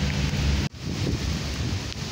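Rain falling outdoors in the Philippines, a dense, loud, steady hiss with rough low wind rumble on the microphone, briefly cut by a sudden dropout before continuing unchanged.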